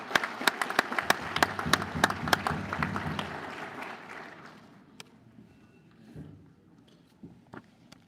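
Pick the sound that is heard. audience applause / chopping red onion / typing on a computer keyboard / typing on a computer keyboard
audience applause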